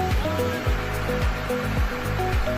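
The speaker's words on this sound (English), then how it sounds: "Strong water output for fast fire suppression" A remote control firefighting vehicle sprays a strong jet of water, a steady broadband hiss and rush that runs continuously under a rhythmic music bed.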